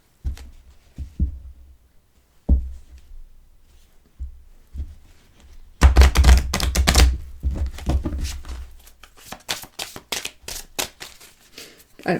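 A tarot deck being cut and shuffled at a table, with a few soft card taps and slaps at first, then a louder burst of riffling and rapid card flutters that carries on to the end, no voices.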